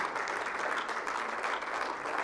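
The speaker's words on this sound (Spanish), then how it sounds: "dale fuerte ese aplauso al que vive" Steady crowd applause at a church worship service, a continuous clapping wash throughout with no pauses.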